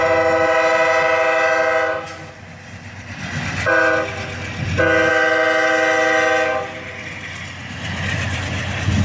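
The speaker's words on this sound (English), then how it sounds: "that single locomotive gets him moving in no time at all" Short freight train pulled by a single locomotive rolls past close by, sounding its horn in two loud blasts over a steady rumble of wheels and engine, with no talk.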